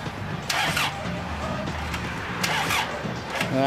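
An old car engine cranks over on a weak battery, sluggish repeated turning with a few stronger surges but never catching, heard up close in a garage.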